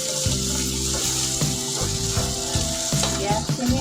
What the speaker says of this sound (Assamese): পিঁয়াজখিনি এতিয়া মই ভালকৈ এনেকৈ ভাজি ল'ম।